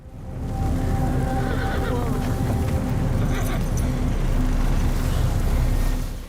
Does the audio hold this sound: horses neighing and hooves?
yes